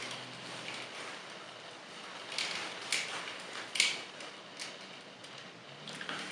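A Takara Legends Skullcruncher toy's joint is worked back into its locked position, producing a few faint, scattered plastic clicks and creaks in near silence.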